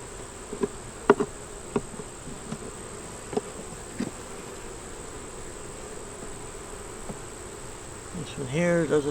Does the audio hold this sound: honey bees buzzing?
yes